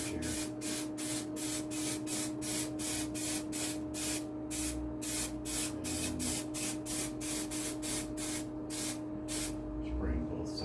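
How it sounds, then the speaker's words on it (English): Rapid repeated bursts of hissing spray from an aerosol can coating the edging of a wooden shield, about twenty short blasts in an even rhythm, close up over a faint steady hum. "I'll spray a line down the center crease of this first, and then I'll spray out"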